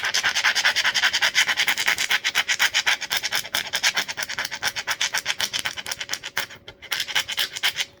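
Rapid rhythmic rubbing as the edge of a plastic shaker tool scrapes back and forth over a vinyl decal laid on transfer paper, close and continuous for the whole stretch.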